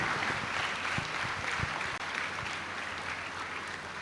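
Audience applause at a graduation ceremony, a steady wash of many hands clapping heard from a distance and moderately faint, continuing throughout without voices.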